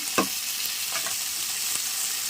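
Turmeric dropped into hot tempering oil with green chillies and curry leaves for lemon rice, giving a steady faint sizzle with a couple of soft stirring taps, heard alone.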